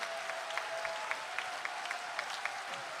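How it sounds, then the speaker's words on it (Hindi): An audience claps for a performing poet at a live Hindi poetry event, a steady crowd-wide patter with a few sharper individual claps rising above it, moderately distant and soft. "एक बार जोरदार तालियां संपत सरल साहब के लिए"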